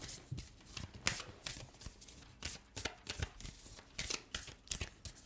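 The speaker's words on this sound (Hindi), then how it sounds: "we are gonna pull some cards from the astrology deck first" Tarot or astrology cards are shuffled by hand in quick, crisp bursts of riffling and slapping, close and fairly quiet, repeating in an irregular rhythm with no talk.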